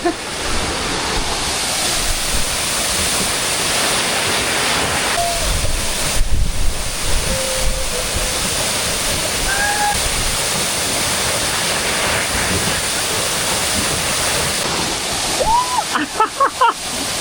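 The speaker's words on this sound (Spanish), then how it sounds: "Nos vamos a meter en la cascada, creo yo." A steady roar of rushing water from a waterfall in Colombia fills the whole stretch, with wind buffeting the microphone and a few voices calling briefly near the end.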